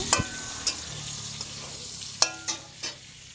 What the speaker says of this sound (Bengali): আর এটা পটল ভাজা হচ্ছে।